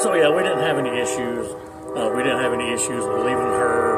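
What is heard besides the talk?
No everyday noise stands out behind the speech.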